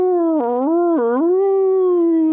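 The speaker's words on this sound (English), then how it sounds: "And that is the sound of a nearby howling." A mournful, angry-sounding howl, close and loud, rising and wavering in a few sliding bends before holding a long sustained tone, heard alone.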